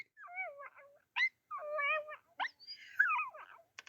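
Dog howling and whimpering in a wavering, song-like series of cries with short pauses between, close and fairly faint with no talk.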